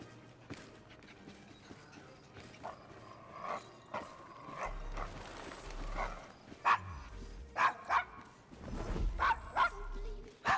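Dog barking in the Assassin's Creed Syndicate video game, several sharp yips and barks in the second half over faint game ambience, with a character's voice speaking nearby.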